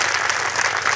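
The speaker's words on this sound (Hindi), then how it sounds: "अब 2 उंगली से बजाइए, 3 उंगलियों से बजाइए, 5 उंगलियों से बजाइए," Crowd at a large Gayatri yajna youth festival clapping hands with five fingers, a dense, steady wash of applause filling the whole moment without pause.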